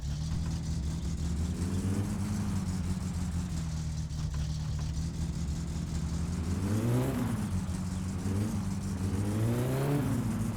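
A car engine with no muffler, from the game My Summer Car, runs at a loud, raw idle and then revs up in several rising and falling surges, with no talk over it.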